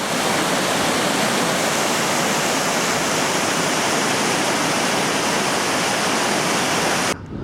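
Water pours over a pond overflow in the countryside, a loud, steady broadband rush close by that continues unbroken until it cuts off abruptly at the end.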